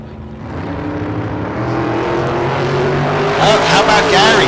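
Drag race cars, including a 1927 Roadster and a Nova, roar loudly down the strip in a rising, building engine howl, with a track announcer talking over the noise.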